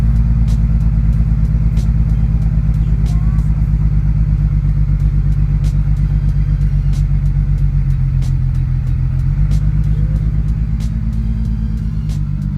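A BMW 335i engine idles with a misfire, a loud, close, steady low rumble with an uneven, lumpy pulse, the service engine light on and the idle slightly raised.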